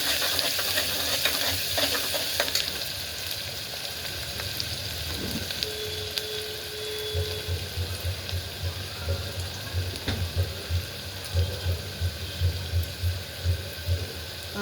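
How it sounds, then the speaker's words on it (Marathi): Onion and green chillies stirred in a hot frying pan, a steady sizzle with rhythmic scraping strokes of the spoon growing more regular toward the end, close and moderately loud, no voices. "कांदा आणि मिरची आता आपण हलवून घेऊया"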